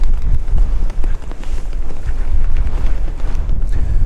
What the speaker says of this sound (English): And as I've hit record, the wind's whipped up.